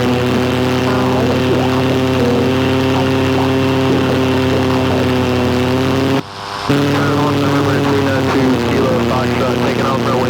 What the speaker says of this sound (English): Taking off runway 23,